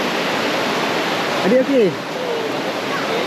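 Rushing river water and a waterfall at Sungai Chiling fish sanctuary near Kuala Kubu Bharu, a steady broadband roar filling the whole clip, with a brief spoken voice rising over it midway.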